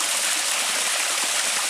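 Spring water gushing strongly out of the ground at Barton Spring, a dense steady rushing splash close by.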